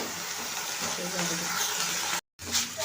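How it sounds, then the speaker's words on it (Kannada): Moringa leaves fry in a pan for a dal, giving a steady close sizzle with faint stirring that runs for most of the moment, breaks off in a brief silence, then resumes. "ಈ ಥರ ಚೆನ್ನಾಗಿ ಫ್ರೈ ಮಾಡ್ಕೊಂಡ್ಮೇಲೆ"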